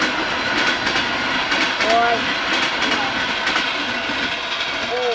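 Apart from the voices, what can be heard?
train passing by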